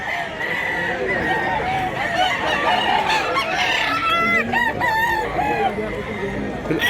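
Busy rooster crowing and hen clucking among many fowl at Mantalungon market in Cebu, several overlapping crows near and far, with people talking underneath.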